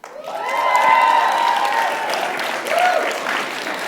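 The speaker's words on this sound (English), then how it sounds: "Go ahead, now you can clap" At a national student science showcase, the audience breaks into loud applause mixed with cheers and a few whoops, a sustained crowd roar that eases slightly and swells again.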